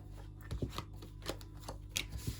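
Tarot cards shuffled and drawn during a reading, giving soft scattered riffles and slaps of card stock, close and fairly quiet with low hum beneath.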